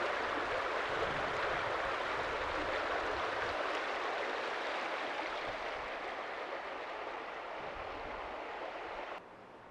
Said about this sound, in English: The brook